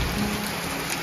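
Steady hiss of rain falling in Japan during the rainy season, dense and even, fairly loud and close, with no distinct drops standing out.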